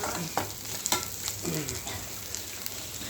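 Mint leaves sautéing in a pan, an even sizzle broken by a few scraping strokes of a spoon stirring the leaves.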